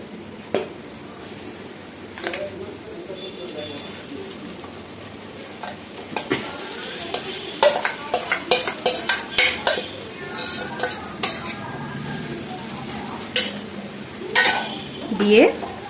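Boiled tadka dal poured into a pan of spiced fried eggs and stirred, with spoon scrapes, clinks against the pan and soft sizzling, the stirring growing busier and more rhythmic midway.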